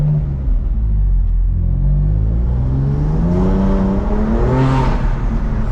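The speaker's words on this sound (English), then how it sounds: "We got a nice little Porsche. That thing is so loud." A Porsche sports car engine revs hard during a full-throttle pull, a loud, close rumble whose pitch climbs steadily as it accelerates through the gears, with no voices over it.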